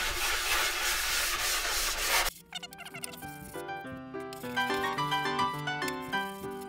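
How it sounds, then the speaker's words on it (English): Sandpaper of 220 grit scrubs a pine wood and MDF cabinet in a loud, steady, close rasp lasting about two seconds, then stops abruptly as music takes over. "with a 220 side, I'll come back after and smooth it out"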